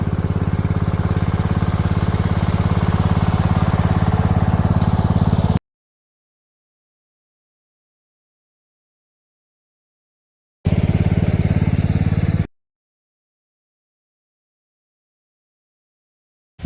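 A Craftsman LT1000 lawn tractor with a 20 hp Kohler engine and 48-inch deck runs with a loud, steady low chugging drone, cutting out abruptly, then returning for a short burst before stopping again.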